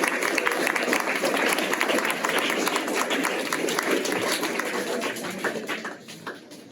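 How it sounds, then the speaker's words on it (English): A school award ceremony audience gives sustained, dense applause for the top nine writing-award finalists, with the clapping steady before tapering off near the end and no speech. "Now let us give a resounding round of applause to our top 9 finalists."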